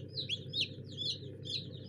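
Newly hatched chicks from an incubator peep in quick, high chirps, about four short bursts in under two seconds, close by over a low steady hum.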